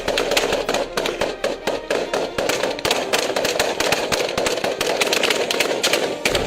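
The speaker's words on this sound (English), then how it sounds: "the security team springs into action, opening fire and forcing the pirates to retreat" Rapid gunfire from a ship's security team repelling pirates: dense, loud bursts of sharp cracks in quick irregular succession, sustained throughout with no talk.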